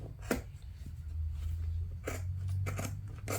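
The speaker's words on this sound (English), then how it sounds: "what happens if you're cutting it like that with the scissors?" Scissors snipping through motorcycle seat cover material while making a custom Harley-Davidson seat, a few separate crisp cuts over steady low background hum.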